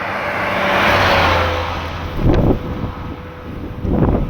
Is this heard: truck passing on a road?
yes